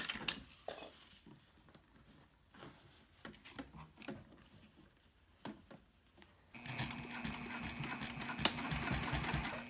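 A sewing machine top stitching Sileather faux leather, with scattered handling clicks and taps at first, then a steady, fairly loud mechanical run of the machine starting partway through and continuing to the end.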